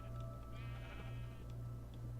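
A sheep bleats once in a Minecraft modpack (Project Ozone Lite), a short, clear wavering cry over a steady low hum.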